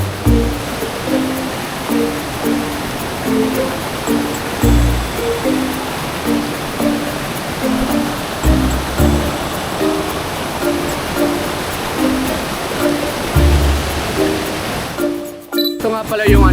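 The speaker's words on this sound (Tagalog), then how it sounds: "Ito nga pala yung yung Hidden Falls." Hidden Falls in Bulusan, Sorsogon, roars as a steady wash of falling and rushing water under music with a repeating beat, and a voice speaks briefly near the end.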